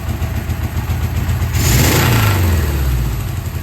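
A 1978 Suzuki GS750 motorcycle engine, an abandoned bike being brought back, runs steadily and then revs up, its pitch climbing and falling back over a continuous close, loud rumble with no talking.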